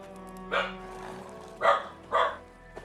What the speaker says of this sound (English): Dog's acting up.